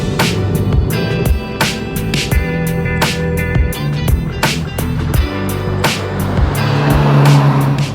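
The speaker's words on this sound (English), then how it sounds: "Let's take this i20N for a bit of a spin." Hyundai i20N hatchback with manual transmission being driven, its engine note steady and close, with a continuous drone and repeated sharp transient knocks and clicks throughout, no talking.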